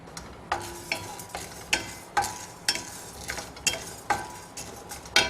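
Lentils dry roasting in a pan as they are stirred, with a regular scrape and clink of a spoon against the metal every half second, over a soft dry rustle, close up and with no talking.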